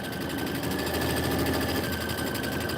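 A sewing machine runs a quilting stitch at a steady fast pace, its needle mechanism producing a continuous rapid mechanical chatter with a constant motor whine, close and even, with no speech.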